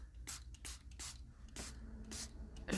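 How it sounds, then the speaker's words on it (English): Gold spray paint hisses from a can onto a rainbow artwork in short, repeated bursts of about a quarter second each, close by and fairly quiet, with brief pauses between sprays. "It kind of does that like spray straight stream."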